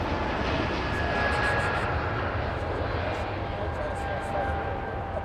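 A jet airliner at Los Angeles International Airport roars steadily from a moderate distance, a broad continuous rumble with a faint thin whine on top, even in loudness from start to finish.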